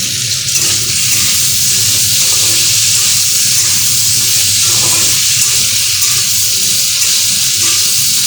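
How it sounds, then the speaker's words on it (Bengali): Potato pieces frying in hot oil for a Bengali home-cooked dish, a steady close, loud sizzle and bubbling hiss running unbroken throughout, with occasional faint stirring. "আলুগুলোকে ভালো করে লাল লাল করে আমি ভেজে নেব"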